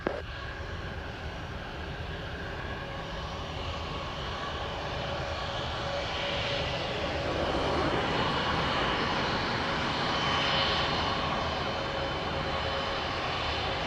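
A JetBlue airliner descends toward runway 25 at Montego Bay, its jet engines a steady, broad roar that swells slightly louder as it passes, heard from some distance with no talking.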